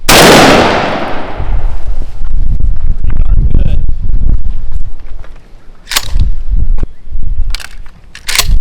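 Shotgun firing a 3-inch number 5 Longbeard XR lead load outdoors, one loud close blast with a decaying echo, followed by wind buffeting and sharp mechanical clicks of handling.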